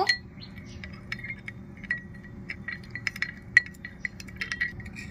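Spices including cumin powder, turmeric and chilli powder being mixed with a little water in a bowl, giving light scattered clinks and taps of a spoon against the bowl, close and fairly quiet, with no talking.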